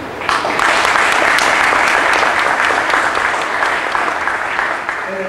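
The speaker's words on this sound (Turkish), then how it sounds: "sevgili Levent Yoruldu'nu bir kere alkışlamamız" Audience at an archaeology days event applauding Levent Yoruldu, a dense, loud, sustained round of clapping from a full hall, steady throughout and easing slightly at the end.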